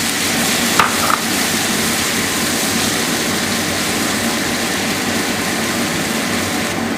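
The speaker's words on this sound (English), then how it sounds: "It's really splattering now" White wine poured into a hot pan sizzles and splatters steadily and loudly, a dense broadband hiss holding for several seconds with a brief louder crackle near the start.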